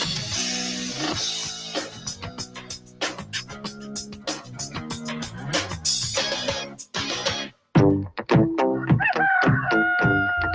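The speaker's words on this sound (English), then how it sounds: "If the rooster's crowing, it's time for" A rooster crows repeatedly on a radio home-improvement show intro, loud close cock-a-doodle-doo calls mixed with music and other clucking, cutting briefly to silence before a final burst.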